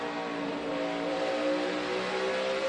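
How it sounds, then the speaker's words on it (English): NASCAR stock car engines roaring around the track at the 2011 Jeff Byrd 500, a steady, distant high-pitched engine whine from the field of racing cars, continuous and faint, with no talking. "Kyle Busch got back to the throttle first"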